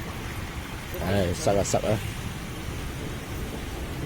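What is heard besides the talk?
heavy rain heard from inside a car during a typhoon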